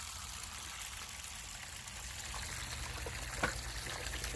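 Water washes steadily through a paydirt box, a continuous close rushing trickle with a brief splash near the end.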